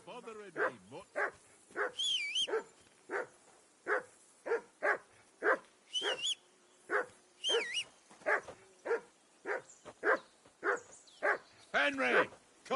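A dog in the video game Kingdom Come: Deliverance 2 barks in a steady series of short, close yaps, with rising whimpers and whines in between, continuing for the whole stretch.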